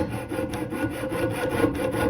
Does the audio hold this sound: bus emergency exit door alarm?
no